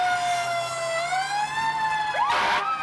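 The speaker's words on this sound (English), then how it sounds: "we still have plenty of fire apparatus heading down the street toward us" Fire engine sirens wail with rising and falling tones as fire apparatus rolls down the street in a 1994 Santa parade in Beverly, Massachusetts, loud and close, with a second siren whooping up near the end and no talking.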